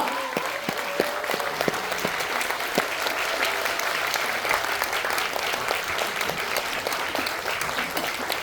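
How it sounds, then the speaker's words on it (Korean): An audience at a reunion event breaks into sustained, dense applause that holds steady and loud throughout, with scattered sharper claps standing out from the crowd. "큰 박수 한번 보내드렸으면 합니다."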